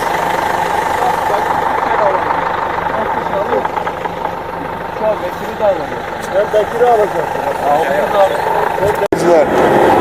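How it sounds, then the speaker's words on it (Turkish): A tractor engine idles and chugs steadily up close while riding toward the mountains, with voices talking over the rumble and a sharp click near the end. "Şu an traktöre bindik böyle karga tulumba gidiyoruz"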